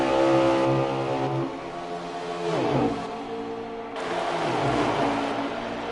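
A NASCAR race car in the NASCAR Heat 4 video game roars loud and close at high revs, its engine pitch rising and falling through gear changes as it runs flat out.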